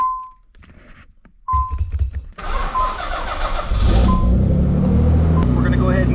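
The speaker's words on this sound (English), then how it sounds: "so I need to start the car" Nissan car engine starting up: a chime, then a thunk and starter crank before the engine catches and settles into a loud, steady idle rumble, with a person talking before and during it.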